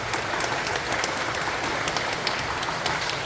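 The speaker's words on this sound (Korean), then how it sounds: "큰 박수 부탁드리겠습니다." A residents' meeting on new-town redevelopment fills with loud, dense applause from the crowd, continuous clapping at an even level throughout as a committee chair is welcomed to the front.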